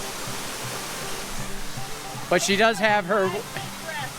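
A waterfall at a remote trail spot pours with a steady, broadband rush, while voices talk and exclaim over the constant roar of falling water.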